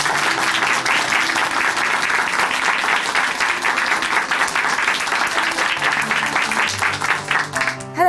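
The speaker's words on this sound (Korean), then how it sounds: "오늘 귀한 간증 전해주신 김미균 자매님께 다시 한번 박수 부탁드릴게요." A church congregation in Chuncheon applauds warmly after a testimony, sustained clapping filling the room at an even level before fading as a few musical notes enter at the end.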